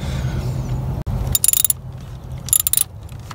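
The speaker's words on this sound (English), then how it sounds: "So I'm going to go ahead and get my socket out." A socket wrench loosens a thermostat housing nut on a Toyota Camry with a 3.0L engine, giving two short bursts of quick ratcheting clicks over a low background hum.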